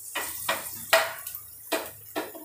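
Lauki koftas in a pan on a slow flame are turned over one by one, giving several short clinks and sizzling scrapes spaced about half a second apart, close up and fairly quiet.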